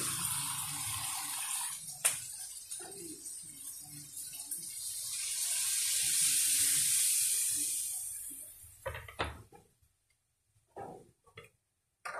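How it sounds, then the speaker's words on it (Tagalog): Water is poured into a pan of sautéing bitter gourd, setting off a hissing sizzle that swells for several seconds then fades, followed by a few scattered clinks and faint stirring. "lagyan natin siya ng kaunting water mga kaguro"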